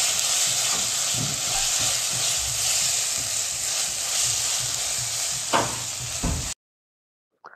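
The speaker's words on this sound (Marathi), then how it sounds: "पेस्ट घालून झालेली आहे आणि आता तिला छान अशी एकत्र करून परतून घ्यायची आहे." Masala paste for kaleji masala sizzles steadily in a pan as it is stirred and sautéed, a close, bright, continuous hiss with a few scraping knocks, cutting off abruptly near the end.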